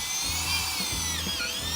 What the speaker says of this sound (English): finishing drilling that up